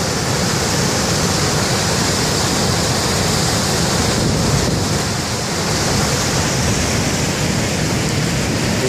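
The West River near Sheet Harbour rushes past in a dense, steady roar of flowing water that fills the whole stretch loudly and evenly, with no voices over it.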